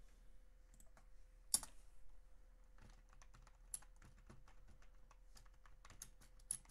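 Close, steady typing on a computer keyboard while writing Java code, a quick run of light key clicks with a few sharper louder taps, alone with no speech.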